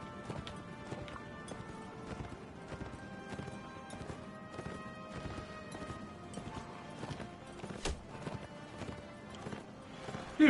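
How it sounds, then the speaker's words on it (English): Galloping cavalry horses charge across a battlefield in the video game Mount and Blade: Warband, a dense, steady clatter of hoofbeats with occasional whinnies and clashes, fairly loud throughout with a sharp hit at the end. "Cavalry, charge!"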